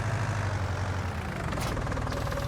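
Small tow tractor in Farming Simulator 19 idling steadily, a loud, low, chugging engine rumble with a knocking pulse, close and continuous with no talk.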